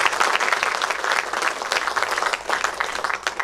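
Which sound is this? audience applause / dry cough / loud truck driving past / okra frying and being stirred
audience applause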